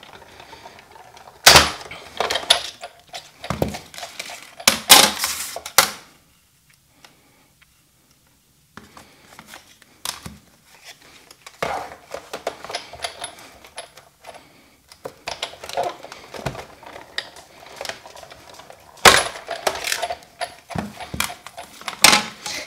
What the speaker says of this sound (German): das präge ich mir mit Struktureffekt, mit der Prägeform Struktureffekt.